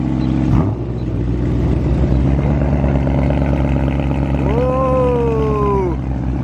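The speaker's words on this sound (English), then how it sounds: "Let's do a cold start." BMW E92 M3 with a decat exhaust and stock pipe mod firing up from cold: a sharp start-up burst, then a loud, steady idle rumble close by, with a rising-falling whine near the end.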